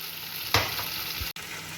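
Meatballs and peppers dropped onto fried tomatoes in a pan set up a steady sizzle, with a louder burst of frying as the pieces land, then a brief clatter before the hiss continues.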